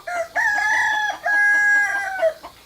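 A free-roaming rooster in the Jirisan mountains crows loudly and near, mixed with clucking from a handful of chickens, with no voices.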